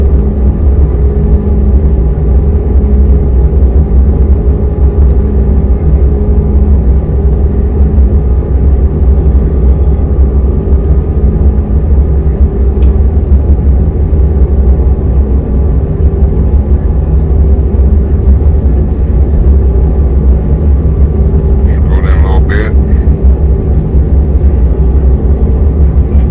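A P42 passenger locomotive engine in the Run8 train simulator game drones as a steady, loud low-pitched rumble throughout, with a brief spoken remark over it near the end.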